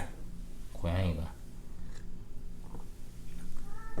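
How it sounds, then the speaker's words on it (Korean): A cat gives a single drawn-out meow, fairly close and clear. It sounds indoors, with a speaking voice in the room around it. "고양이가 울어요."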